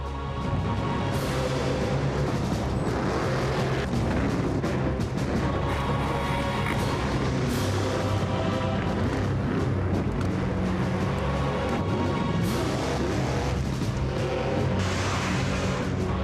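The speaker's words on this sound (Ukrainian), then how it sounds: "По обох зараз проїде величезний трактор." A huge tractor's loud engine rumbles steadily throughout as it drives over car wheel rims, with some clanking and crunching, with no voices.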